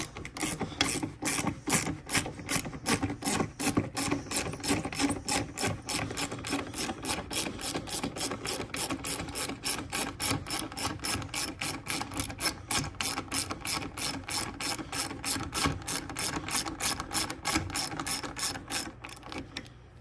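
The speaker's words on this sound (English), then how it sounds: "Now the bolts are going back in." Bolts being fastened back onto a lawn tractor during an oil change, heard as a fast, steady ratcheting click repeating evenly for about twenty seconds, close and loud with no talking.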